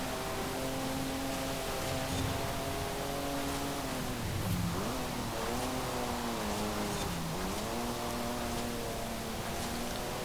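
Heavy car in Forza Horizon 5 driving steadily with a continuous engine drone, its revs dipping and climbing twice in quick shifts before settling, loud and close throughout with no talking.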